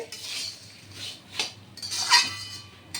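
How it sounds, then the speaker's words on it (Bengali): Puffed rice is stirred in a pan as it dry-fries with peanuts, giving short scraping and clinking bursts of a utensil against metal, close and moderately loud, separated by brief quieter gaps. "মুড়িটা এইভাবে নাড়াচাড়া করে, হ্যাঁ, এইভাবে নাড়াচাড়া করে"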